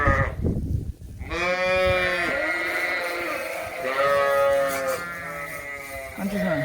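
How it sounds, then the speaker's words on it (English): Several white sheep bleat loudly and repeatedly, close by, as they are let out of a barn at the start of breeding season, with overlapping long wavering calls filling the whole stretch. "I just let these white ones out because that's what we want, some white sheep"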